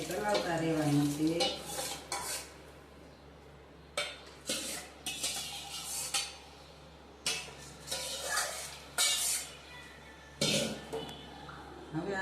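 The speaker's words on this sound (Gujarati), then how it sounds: "હવે આને ધીરે ધીરે હલાવતા રહેવાનું છે" Sabudana (tapioca pearls) being stirred in a pot of boiling water on a gas stove, a spoon scraping and knocking against the metal pot in separated bursts with pauses between, close and clear over a low steady hum.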